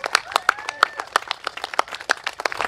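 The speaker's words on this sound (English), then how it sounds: "Let's give her a big round of applause, please." A small crowd at an election campaign rally for the Jurong Central SMC candidate in Singapore claps in a sparse, uneven patter of distinct hand claps, fairly close and without talk.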